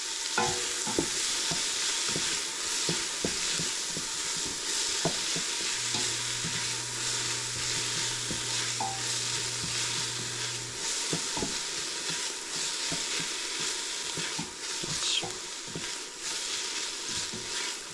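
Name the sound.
onions sweating in oil in a pan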